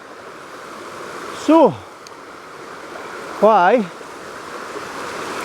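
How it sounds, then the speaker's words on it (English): Small waterfall flowing in the woods near Loch Chon: a steady, distant rush of water runs throughout, under someone speaking twice. "you can see there's a wee waterfall"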